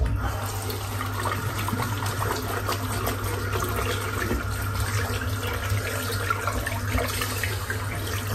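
A shaving brush is rinsed under a running tap at a sink, a steady close rush of water that continues unbroken throughout with no talking.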